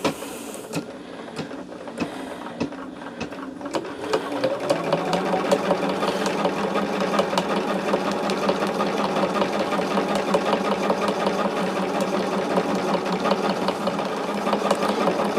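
Sewing machine stitching along the seams of a small quilted charm bag, close and steady, a few isolated clicks at the start before a continuous rapid mechanical whirr with fine repeating ticks runs on unbroken.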